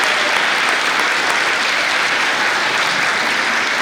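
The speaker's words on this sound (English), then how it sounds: "How about another round of applause for Emily Boycott?" Audience applause at a Special Olympics Canada awards ceremony after a performance, dense and sustained clapping from a large crowd at an even loudness throughout.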